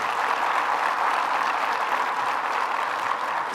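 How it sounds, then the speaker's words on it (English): Audience at a government event applauding for the mayor, dense, sustained clapping from a large crowd that holds steady and loud the whole time, with no voices on top. "So let's give another round of applause to our mayor,"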